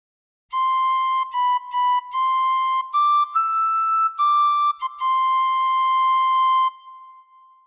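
A tin whistle plays a melodic phrase, clear and close: sustained pure tones with a few short separated notes, pitch stepping up then settling back down, ending abruptly.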